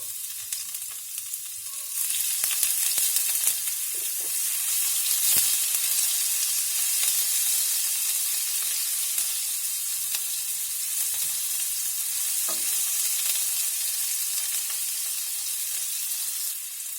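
Chopped onions sizzle steadily in a hot pan for Greek moussaka, a continuous bright frying hiss that swells after the first couple of seconds and holds, with a few faint stirring knocks and no voices.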